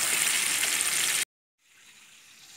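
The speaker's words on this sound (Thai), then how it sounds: "ค่อยทอดด้วยไฟกลางนะครับ" Bonchon-style Korean chicken deep-fries in oil over medium heat, a loud, dense crackling sizzle close by that cuts off abruptly, then returns as a fainter, softer bubbling hiss.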